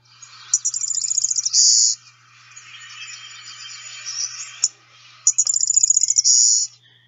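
Golden-winged or blue-winged warbler type 2 song: a stuttering series of high chips ending in a sustained buzz, heard twice several seconds apart, close and clear with soft chatter in between.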